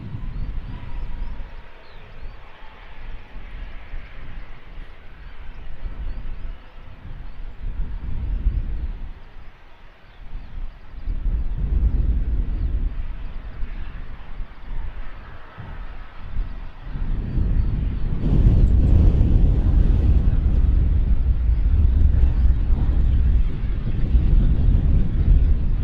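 A Wizz Air airliner departs London Luton Airport as a broad, rumbling jet roar mixed with wind buffeting. The roar swells noticeably louder and fuller over the final stretch.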